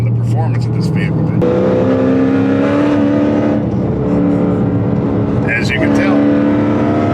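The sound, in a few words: custom widebody Dodge Challenger driving on the road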